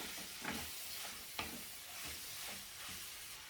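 Tiger prawns stirred with onions and capsicum in a pan, a soft continuous sizzle with faint scraping strokes of the spoon now and then, quiet and steady, with no one talking.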